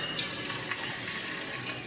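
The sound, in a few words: pork belly frying in oil in a pan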